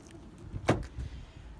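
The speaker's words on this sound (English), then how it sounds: "I'm going to open the back door." Rear door of a 2016 Ford Explorer Sport 4WD opening once: a single short, close latch clunk with a quiet release afterward.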